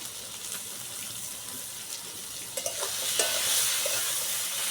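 Coriander and cumin powder sautéing in a pan, a soft steady sizzle with scraping stirs and a few sharper clinks from the utensil, growing slightly louder toward the end.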